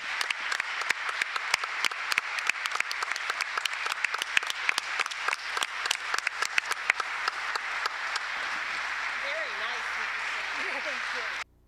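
Crowd at a high school girls' basketball senior night applauds seniors and their parents in a gym, sustained sharp clapping with individual claps standing out, tapering into a softer crowd murmur with a voice before ending abruptly.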